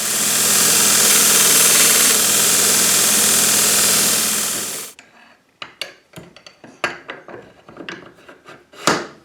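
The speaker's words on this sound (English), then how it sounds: "I'll probably have to grind that just a little bit because it probably raised a burr there" A grinder runs loud and steady for several seconds on a burr on a South Bend 11-inch lathe tailstock part, then spins down into scattered knocks and clatter.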